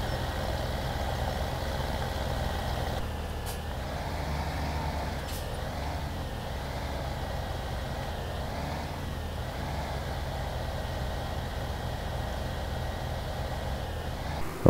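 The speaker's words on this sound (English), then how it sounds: "now we can finally use our truck" A truck engine idles in a steady low rumble for the whole stretch, close and even, with a couple of faint clicks and no talking.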